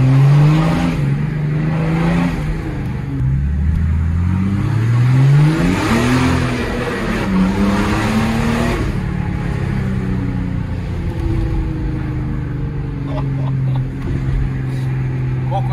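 A Mercedes diesel engine with a new, louder exhaust revs up and down repeatedly, its rising and falling drone loud and close, with voices faintly present at times.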